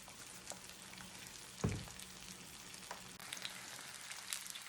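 Trout fry in a pan, a quiet, steady sizzle and light crackle with one soft thump of the pan partway through and no voices.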